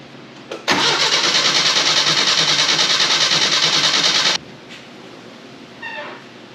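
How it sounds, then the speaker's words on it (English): With the coil wire pulled, the starter motor of a 1971 Datsun 521 pickup cranks the engine over without firing, a loud, close, rhythmic churning that runs for about four seconds and then stops abruptly. "I'm gonna pull the coil wire and I'm just gonna use the starter motor to spin it over some"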